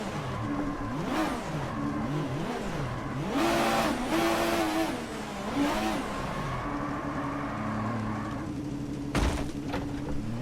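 A turbocharged drift car's engine revs in sharp throttle blips, rising and falling repeatedly over a steady motor drone, with a brief louder burst near the end.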